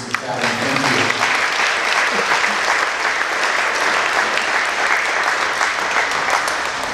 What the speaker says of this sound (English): So have a round of applause for the Mandarins Music Academy.